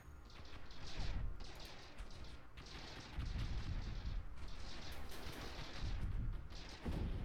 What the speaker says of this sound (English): it is firing lasers, it's just not benefiting from the upgrade for some reason